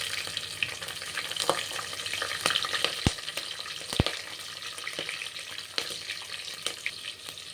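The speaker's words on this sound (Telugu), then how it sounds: "ఇప్పుడు పచ్చిమిర్చి వేసుకుందాం." Green chillies frying with mushrooms in a pan for mushroom biryani, steady soft sizzling with scattered crackles and two sharp utensil knocks against the pan, close and even, no talking.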